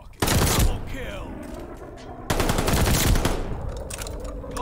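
Rapid bursts of automatic gunfire from a player's weapon in a World War II-style shooter game, two loud sustained volleys with a brief pause between, dense and close over game sound effects.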